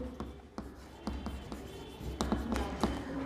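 Names written by hand on a board during a chemistry lecture: a few soft scratchy strokes with short pauses, close and quiet, with faint low murmuring in the background.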